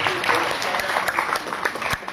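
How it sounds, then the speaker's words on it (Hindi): An audience at a Hindi literary award ceremony applauds in a standing ovation for a senior poet, with sustained, dense clapping throughout and a few sharper claps standing out. "ये तालियां तब तक बजती रहनी चाहिए"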